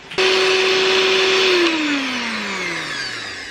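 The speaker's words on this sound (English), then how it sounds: "We may have to use the mixer because it's looking a little bit lumpy and I would like a nice smooth mix" An electric hand mixer whirs through lumpy pumpkin bread batter, its loud motor whine starting abruptly, holding a steady pitch, then gradually winding down as it slows.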